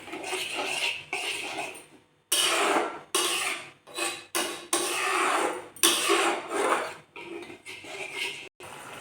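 A spoon scrapes and rubs through curd and masala with prawns in a pan, in repeated close, loud stirring strokes separated by short pauses, with no voices.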